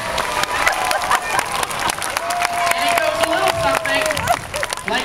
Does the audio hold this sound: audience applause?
yes